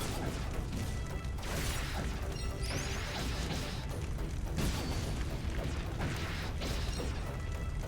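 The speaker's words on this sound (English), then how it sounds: "Everything's exploding." Repeated crashing blasts and bursts from an action video game, Eiyuden Chronicle Rising, fill the scene, with several loud explosive hits at irregular intervals over a dense, continuous layer of game noise.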